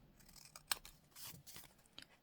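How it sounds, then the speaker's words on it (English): Scissors trim the edges of a paper card in a quiet room: several soft, crisp snips spaced unevenly, with one sharper cut standing out, faint and close, with no voices. "And I will need to trim the edges here."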